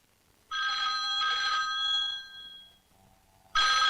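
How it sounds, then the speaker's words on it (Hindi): A telephone rings loudly in two bursts of bright electronic trilling, pauses in near silence, then starts ringing again. "Phone phone."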